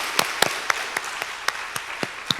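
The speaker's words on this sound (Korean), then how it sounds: "우리 박수로 격려했으면 좋겠습니다" A church congregation at an early-morning autumn revival service claps in a steady, even rhythm, about four crisp beats per second, in unison and fairly near.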